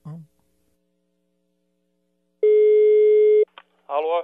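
A telephone busy tone heard after a hung-up call: one steady, loud electronic beep lasting about a second, framed by brief bits of speech before and after.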